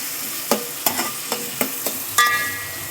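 Onions sauté in a pan, a soft constant sizzle punctuated by six or seven sharp metallic scrapes and taps of a spoon stirring against the pan, close up and without speech.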